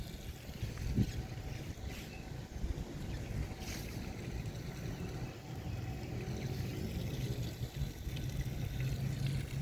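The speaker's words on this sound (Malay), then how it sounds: "Air yang mengalir dengan tanaman" Water flowing steadily through a planted garden in Putrajaya, heard as a continuous soft rushing wash with a low rumble underneath, moderately loud and unbroken throughout with no talking.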